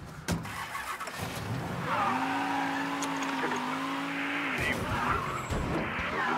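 A stolen car in the video game Mafia III slides through a long, loud tire skid with a wavering squeal over the engine drone, followed by more rumbling as it keeps driving.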